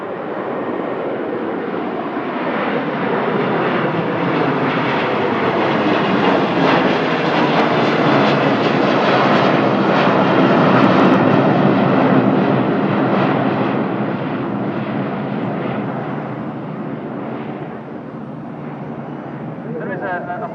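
An Airbus A330 airliner goes around at an airport, its engines producing a loud, sustained roar that builds and holds for about twenty seconds before easing slightly, with a voice talking faintly underneath.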